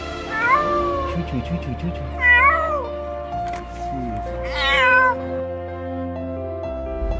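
A kitten rescued from the sea meows three times, each a loud, drawn-out, rising-then-falling cry with short pauses between, near and alone apart from low background hum.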